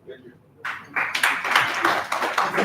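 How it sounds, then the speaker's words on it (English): Applause from an audience at a national dialogue in Uganda, beginning abruptly after a quiet moment and building into a steady, dense clatter of many hands clapping, with a few voices mixed in. "Once again, a big applause to him."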